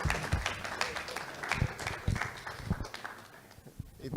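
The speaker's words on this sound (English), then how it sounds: "Give the man another clap, man," An audience at a Barbados GDPR forum claps for a presenter, a dense, steady patter of many hands that carries through the whole stretch with scattered sharper claps, fairly close and with no speech over it.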